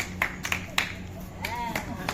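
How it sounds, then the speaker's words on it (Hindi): A few scattered hand claps ring out in a temple audience, sparse sharp slaps spaced irregularly rather than full applause, with a voice speaking faintly underneath. "ताली बज गई बताओ।"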